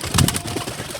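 Pigeons coo in a short, soft burst that swells near the start and then trails off into a quieter, murmuring background.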